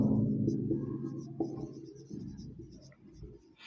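Marker or chalk writing numbers on a classroom board for a maths lesson, close scratchy strokes in short bursts with brief pauses, no talking.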